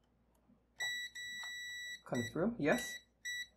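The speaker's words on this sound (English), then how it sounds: "the buzzer will beep" A robot vacuum's buzzer gives short high electronic beeps, a few brief tones spaced apart, heard close and fairly quiet while a voice speaks briefly between them.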